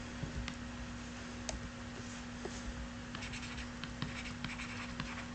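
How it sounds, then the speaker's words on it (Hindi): Someone writes notes on a board during a biology class lesson, a quiet sequence of faint scratchy strokes and light taps with a low steady hum in the background. "लिख लेते हैं हम लोग।"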